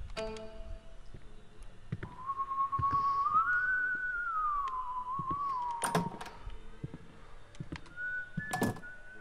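Whistling Willy from the horror video game White Day whistles a single eerie, rising and falling tune over scattered thuds and taps, fairly clear and unaccompanied by voices.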